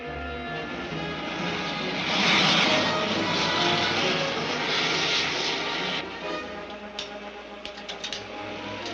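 A propeller aircraft engine drones loudly and steadily as the plane makes a landing approach in an old 1952 film soundtrack, swelling slightly midway with some sharp clicks near the end.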